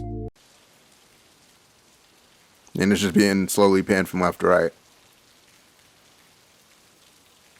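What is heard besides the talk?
rain loop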